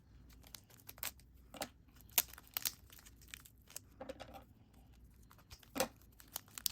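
Scissors cutting open a trading card order package from TCGplayer, heard as quiet scattered snips, tearing and crinkling of packaging material in short bursts, close and faint, with no talking.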